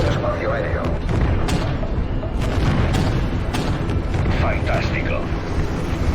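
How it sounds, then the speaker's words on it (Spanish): Aerial bombing explosions in a war film scene rumble continuously, a dense, loud roar of booms with sharp cracks layered over it, while radio voices speak in Spanish underneath. "Permiso para bombardear zona objetivo de oeste a este."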